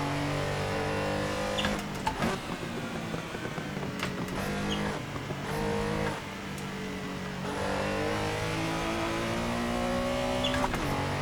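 Porsche 911 Carrera RSR 3.0 engine in the Assetto Corsa racing game, a steady loud rasping flat-six drone that climbs and drops in pitch through gear changes and revs, with no talk.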